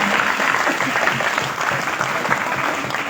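An audience at an honouring ceremony claps loudly and continuously to welcome a guest, dense applause filling the hall.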